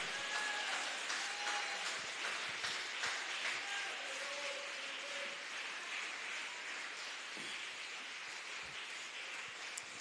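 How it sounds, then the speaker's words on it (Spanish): A church congregation claps together in a soft, rain-like patter that keeps going at a steady level, fairly faint, with a few brief tonal sounds drifting through. "Un aplauso para él, hermano."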